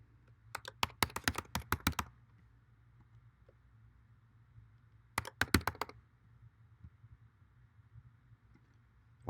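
Quick clattering keystrokes on a computer keyboard come in two short bursts several seconds apart, crisp and close, with a quiet hum in between.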